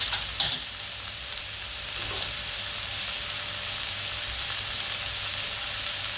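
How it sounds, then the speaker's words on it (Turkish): Hot water is poured onto sizzling sautéed vegetables in a pot for a pea stew. A brief splash comes first, then a loud, steady, close hiss of frying. "şimdi sıcak suyuna ilave edelim"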